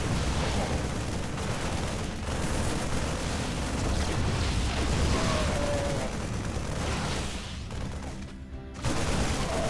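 A large StarCraft II battle between Marines and Stalkers, with a dense, continuous roar of gunfire, blasts and explosions layered into a loud, chaotic wall of combat noise that briefly thins near the end.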